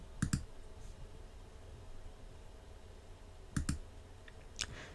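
Mouse clicks in the Scratch editor: a quick double click near the start, another double click midway, and a single softer click at the end, each crisp and close against a faint low hum.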